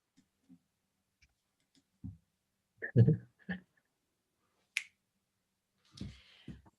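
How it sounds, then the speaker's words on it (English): Several sharp finger snaps ring out one by one with quiet pauses between them, close by and crisp. "you can open your eyes and snap your fingers."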